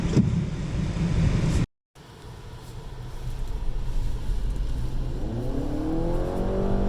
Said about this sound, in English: So you can hear the rev of the CVT. It's building.